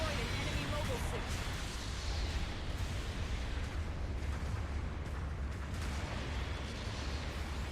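A mobile suit explodes in the video game Gundam Battle Operation 2, a rumbling blast spread over a continuous roar of battle noise that stays loud throughout, with an announcer-style voice speaking over it.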